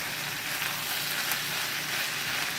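Black pepper chicken and vegetables sizzle steadily in a hot stir-fry pan, a dense, even crackle of frying that stays close and constant throughout, with no voices.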